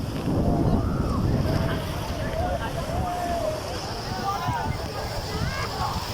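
Sea waves washing in at Guliakhali beach, a steady broadband rush of surf mixed with gusty wind buffeting the microphone, with voices faintly in the background.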